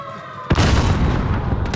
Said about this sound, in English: Frag on the way.